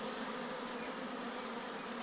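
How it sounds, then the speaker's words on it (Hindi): A swarm of honeybees (Apis mellifera), some on bamboo wood and some in the air during a rescue, makes a steady, continuous buzzing drone with no talk. "मधुमक्खियाँ कुछ बांस की लकड़ी में है, कुछ अभी हवा में उड़ रही है।"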